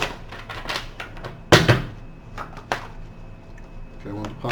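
Tarot cards are shuffled in quick papery riffles and taps, with one louder slap partway through, close by and fairly crisp.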